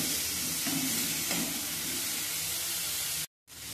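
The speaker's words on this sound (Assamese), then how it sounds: "এতিয়া এইখিনিও মই অকণমান ৰঙচুৱাকৈ ভাজি ল'ম।" Cauliflower fries in hot oil over a high flame, giving a close, steady, loud sizzle with occasional stirring, then a brief cut to silence near the end.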